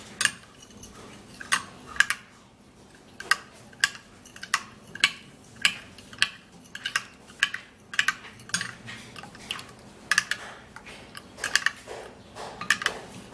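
A homemade juice eye treatment stirred in a container, giving a steady run of sharp clinks and taps from a utensil against the sides, roughly one to two per second, close and clear with no talking.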